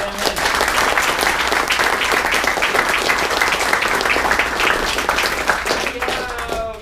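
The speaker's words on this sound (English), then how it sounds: "I first want to give a great big round of applause to Cory Isaacson and Lynn." An audience at a talk on agile big data gives a steady round of applause, loud and sustained throughout, with a few voices rising near the end.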